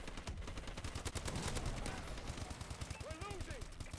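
Rapid automatic bursts from an AK-12 rifle in the video game Call of Duty Advanced Warfare, loud and dense shots rattling almost continuously for several seconds, with brief tonal game effects near the end.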